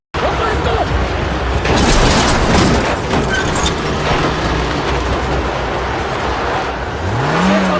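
A police car speeding away during a film chase, with loud, continuous engine roar and road noise filling the scene and a rising whine near the end.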